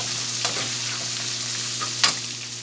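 Okra and green chilies fry in a pan, a constant close crackling sizzle with a couple of brief louder stirring scrapes and spits, no voices.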